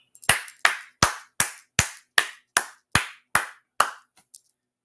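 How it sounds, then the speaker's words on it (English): Sharp, evenly spaced handclaps ring out one at a time, about ten in steady rhythm, each crisp and close with a short decay, ending with a couple of softer trailing claps in an otherwise quiet space. "let's clap it up"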